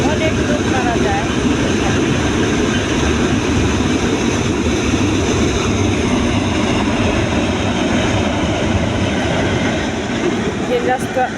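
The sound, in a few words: train passing on railway track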